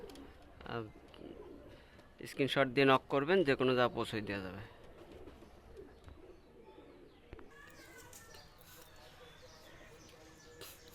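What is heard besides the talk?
pigeons cooing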